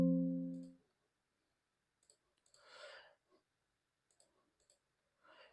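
A few soft computer mouse clicks during SolidWorks modeling, sparse and close, following a brief spoken word at the start and some faint breathing.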